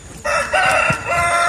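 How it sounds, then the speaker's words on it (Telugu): Fighting roosters crow in a lemon orchard, one loud, close crow holding a long strained note with a brief cluck mixed in. "పందెం కోళ్ళు చూడండి చాలా ఉన్నాయి."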